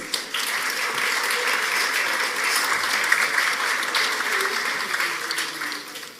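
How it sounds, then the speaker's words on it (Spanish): An audience at a conference forum applauds a panelist being introduced, with sustained, dense clapping that holds steady for several seconds before tapering off. "con el aplauso de todos ustedes, a José Cuesta Vázquez."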